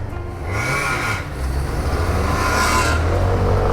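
A SYM Symphony ST 125 L/C scooter engine revving and accelerating, a rising motor whine that climbs in pitch and then holds strong and loud, close by with no talk.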